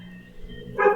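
A dog barks a single time nearby, a short, loud bark at the end that rises over a quiet background hum.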